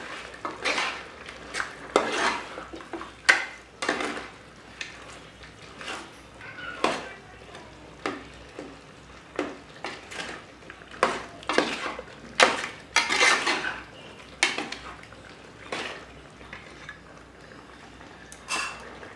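Chicken soup simmering in a metal pot is stirred after salt goes in, a ladle or spoon scraping and knocking against the pot walls in irregular, close clinks and clatters, with no voices.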